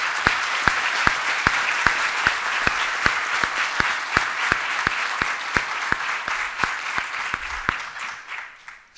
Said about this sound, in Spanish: Les pido un aplauso para todos estos que han hecho posible el cambio del Perú.